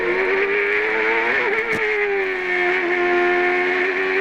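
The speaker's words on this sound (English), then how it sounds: "Looks like he's back in his race car." A CART open-wheel race car at the 2002 Grand Prix Americas in Miami holds a loud, sustained high-revving engine note that dips and climbs slightly, heard close on board without speech.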